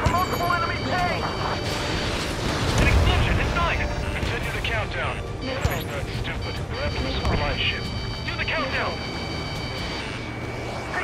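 Heavy artillery fire and explosions in Ace Combat 7 rumble continuously under loud overlapping voices and radio chatter, with dense booming and aircraft noise throughout.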